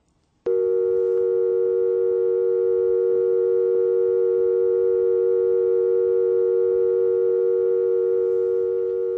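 A telephone handset gives a steady, unbroken electronic tone after its hook switch is pressed. The tone starts abruptly, then holds loud and clear on its own.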